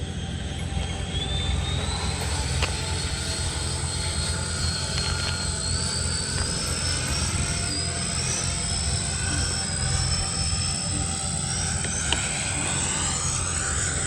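An E-flite F-16 RC model jet flies overhead with a steady, loud whooshing whine from its ducted fan, and a high tone slowly rises and shifts as it manoeuvres, with no voices.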